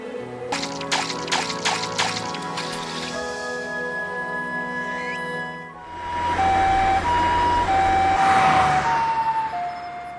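An ambulance siren in an anime hospital scene sounds over soft music, its two-tone wail swelling loud and close in the second half after a calmer opening with chime-like notes.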